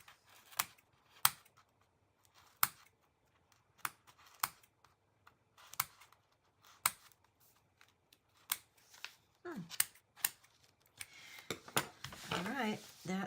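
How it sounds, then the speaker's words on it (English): Scissors snip through the folded spine of a vintage children's book's pages, a series of sharp, separate cuts spaced irregularly, fairly close, ending in a denser burst of rustling and cutting. "So I'm just going to snip,"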